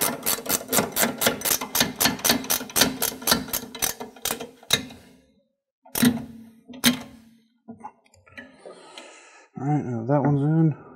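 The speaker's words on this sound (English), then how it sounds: "Just going to use a ratcheting wrench to make this easy and quick." Rapid metallic ratcheting clicks from a ratchet wrench tightening brake caliper bolts on a Mustang drum-to-disc brake conversion, a steady fast run of clicks that slows into a few separate strokes, with brief talk near the end.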